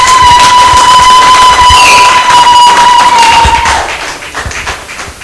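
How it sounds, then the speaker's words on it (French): An audience in a hall applauds at an academic thesis defense, with dense clapping and cheers over a steady tone. It fades out after about four seconds. "vous méritez les applaudissements de la salle"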